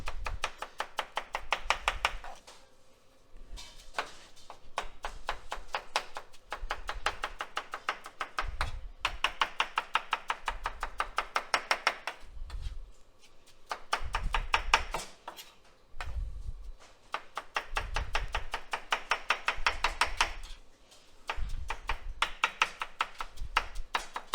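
A knife chops vegetables on a board for Turkish Antep ezme. The quick, steady strikes come in bursts with short pauses between them, close and clear, with no talking.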